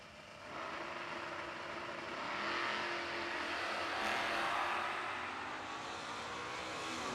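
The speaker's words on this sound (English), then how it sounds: "Camaro will go first by a little over 1 full second on the Christmas tree." A 1993 fourth-generation Camaro launches at a drag race in Longwood, Florida, its engine roar rising and holding steady for several seconds at a moderate distance amid outdoor track ambience.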